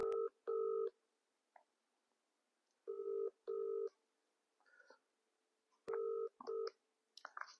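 Telephone keypad tones sound as a number is dialed for a call. Three quiet groups of crisp, evenly spaced beeps are separated by silence, with faint clicks between them.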